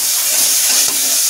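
Spices and chopped tomatoes hit hot oil with fried onions in a pan for lauki chana dal, giving a loud, continuous hissing sizzle, close and steady with no voices.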